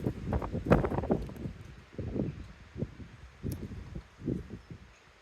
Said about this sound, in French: Le vent il se lève de plus en plus.